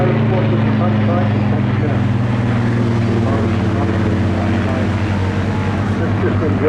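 A Rolls-Royce-powered Spitfire Mark 19 flies past at an air festival with a loud, sustained, deep droning engine roar that stays steady throughout, with a voice talking over it.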